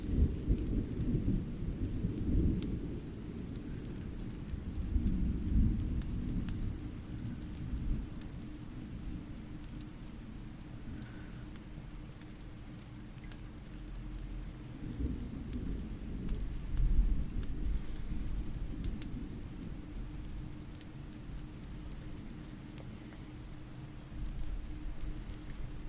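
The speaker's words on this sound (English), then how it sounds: "I think I hear rain" Steady rain with rolling thunder, low rumbles swelling and fading over continuous patter on surfaces, fairly close and loud throughout, no voices.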